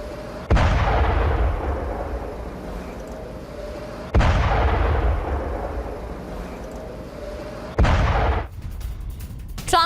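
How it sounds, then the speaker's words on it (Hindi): Missile strike explosions hit the Al Jubail industrial area in three heavy booms spaced a few seconds apart, each a sharp loud blast followed by a long rumbling roar that slowly fades before the next. "एक के बाद एक धमाके हुए।"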